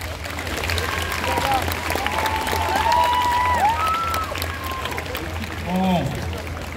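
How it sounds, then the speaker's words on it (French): Audience applause at a cosplay show during a convention, a steady wash of clapping and crowd noise with voices and shouts mixed in throughout. "Une autre main d'applaudissement s'il vous plaît"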